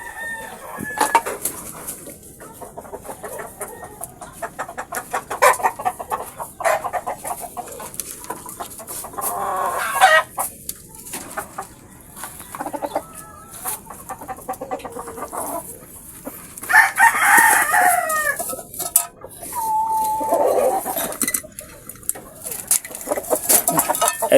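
Red Kelso chickens cluck in a backyard while a rooster crows, with a louder crowing burst partway through; the birds sound moderately close and carry on alone, with no talk.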